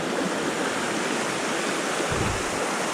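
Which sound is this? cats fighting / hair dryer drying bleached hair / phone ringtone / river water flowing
river water flowing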